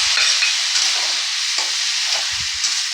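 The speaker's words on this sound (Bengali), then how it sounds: "এবারে আমি ভালো করে কষিয়ে নেব" Ridge gourd (turai) sautéing in a pan, a steady close broadband sizzle with soft stirring scrapes breaking through at intervals, no voices.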